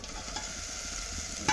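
An egg dropped into masala frying in a pan gives a steady, close sizzle with a brief stir and a slight bump in sizzle near the end.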